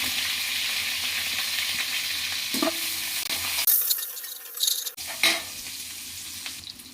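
Crushed green chilli and garlic frying in a pan with curry leaves for a traditional dry prawn kulambu, a steady close sizzle broken by brief clatters of stirring and a short dip in the hiss.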